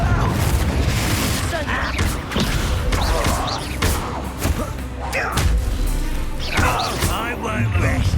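A Confringo fire spell explodes in the Hogwarts Legacy video game, with booming, crashing blasts over a dense, continuous battle mix and spoken lines.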